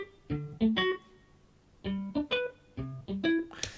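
Sustained and plucked electric guitar layers from Logic Pro instruments play a syncopated pop riff together, two phrases of quick bright notes separated by a short gap, ending on a hissy flourish.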